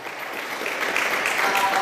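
A church congregation breaks into steady applause during a sermon about Jesus, dense rapid clapping from many hands filling the room at an even level throughout.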